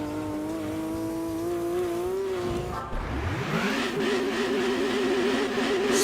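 Nissan Sylvia Spec R Aero race car in Gran Turismo 2, engine note holding steady, dipping briefly as it shifts, then climbing again in a sustained loud drone with a faint tire squeal.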